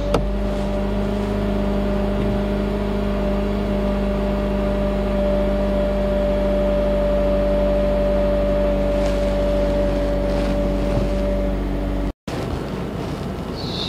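A 2008-2012 Honda Accord engine idles steadily during a throttle body relearn, a constant close hum with a strong tonal drone, ending abruptly in a brief cut before faint background noise.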